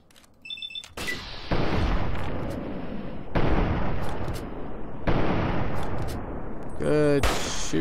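Gunfire in Fallout 3, loud booming shots and blasts in several heavy bursts with short gaps, close and forceful, with a voice talking at times.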